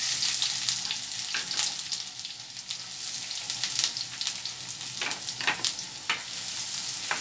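Sliced onions fry in hot ghee in a pan, a close, steady crackling sizzle with sputtering pops and occasional stirring, no voices.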